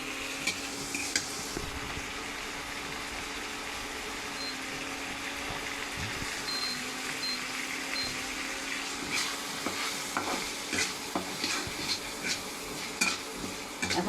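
Boiled vegetables, eggs and fish are stirred with spices in a sizzling pan, making a steady frying hiss with scraping and clinks of a utensil against the metal, close and continuous.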